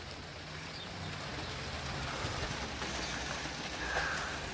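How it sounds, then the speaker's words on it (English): Steady rain falling outdoors in Auckland during car repair work on a 2007 Mini Cooper, a soft continuous hiss throughout with a faint bird call near the end and no voices. "there's blue skies over there, but raining over here"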